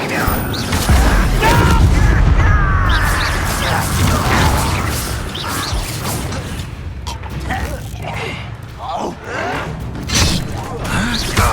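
A fiery Incendio spell bursts in the video game Hogwarts Legacy, a loud, close whoosh and crackle amid combat clatter and booms, with a voice speaking over it.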